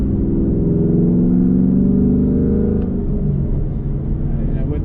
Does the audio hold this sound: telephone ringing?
no